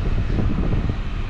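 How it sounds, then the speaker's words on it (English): Strong wind buffets the microphone at a gas station air pump, producing a steady, loud low rumble that roars on without pause and with no talking. "wow, very windy"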